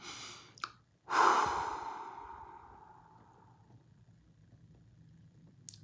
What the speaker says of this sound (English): let's take some deep breaths